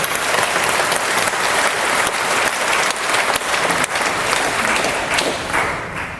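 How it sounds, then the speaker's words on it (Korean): Sustained audience applause, many hands clapping steadily and loudly throughout, tapering slightly at the end. "우리 큰 박수를 한번 보내주시기 바랍니다"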